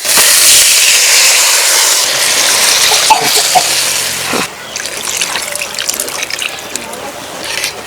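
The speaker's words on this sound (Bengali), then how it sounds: "এবার দিয়ে দেবো জল" Water is poured into a pan of frying rohu fish curry with potatoes and cauliflower, a loud rushing hiss and gush that cuts off sharply partway, followed by quieter bubbling and stirring clatter.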